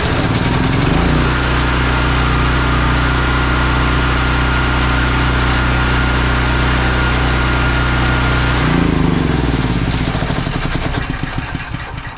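A Firman T07571 portable generator starts up from the push-button start with its choke set, then runs loud and steady close by. Its engine note shifts and roughens toward the end of the run.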